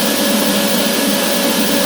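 Vacmaster Professional 3.5 horsepower wet/dry shop vacuum running steadily, a loud constant close whine and rushing air with no other sounds.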